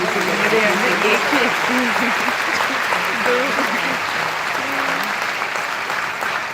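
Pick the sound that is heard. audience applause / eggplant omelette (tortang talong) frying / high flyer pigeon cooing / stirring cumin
audience applause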